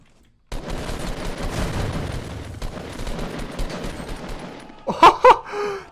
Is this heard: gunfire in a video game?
yes